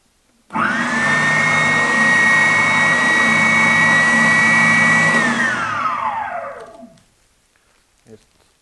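A Triton TSPS 450 oscillating spindle sander starts up with a loud, steady motor whine and roar. It runs evenly for several seconds, then spins down with a falling pitch and goes quiet.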